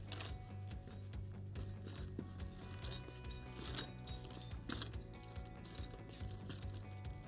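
A Blåmann LT5 light snow chain is handled, giving irregular bursts of metallic jangling and clinking links, close up and alone over a low background hum.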